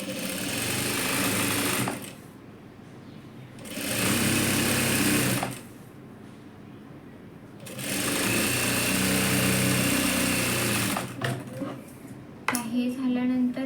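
A sewing machine stitches the folded-in edge of a dress lining in three long, loud whirring bursts separated by quiet pauses. Short handling noises follow, and a voice speaks briefly near the end.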